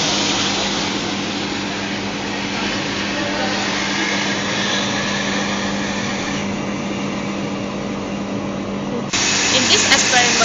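A turbine test rig runs in a lab for a strain gauge experiment, giving a loud, steady hiss and whir with a constant hum, shifting in tone near the end as the flow changes. A person talks over it.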